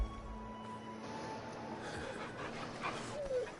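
A dog pants in the Final Fantasy XVI video game, quick soft breaths running steadily under game ambience and faint background sound.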